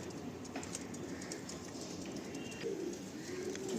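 Pigeons in a prize-winning pigeon loft coo softly amid a faint, steady background hum, with low murmuring calls rising now and then.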